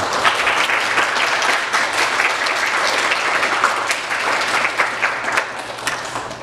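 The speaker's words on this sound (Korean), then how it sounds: "잠깐 일어나시면 저희가 박수로 환영하겠습니다" A church congregation applauds during a service to welcome a visiting elder, with a steady, full wash of clapping from many hands throughout.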